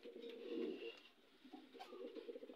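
Pigeons in a loft cooing softly and close by, a low throaty rolling coo repeated over a few seconds, faint and without talk.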